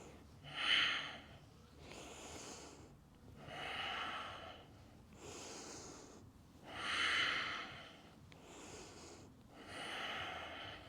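Deep, steady breathing during a yoga practice, about six alternating inhales and exhales in a slow, even rhythm, close and fairly loud with no speech.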